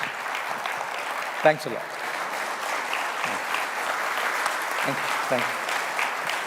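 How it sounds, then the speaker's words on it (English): An audience at a panel session applauds the speakers on stage, steady broadband clapping running the whole time beneath a voice giving brief thanks at the front. "Can we have a big round of applause, please?"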